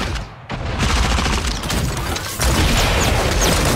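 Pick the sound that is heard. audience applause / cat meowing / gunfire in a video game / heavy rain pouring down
gunfire in a video game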